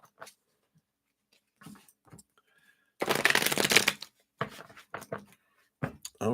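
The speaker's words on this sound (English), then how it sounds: "you must shuffle three times" A deck of oracle cards is shuffled in a brief dense riffle burst, with a few softer card flicks and handling sounds before and after, close and alone.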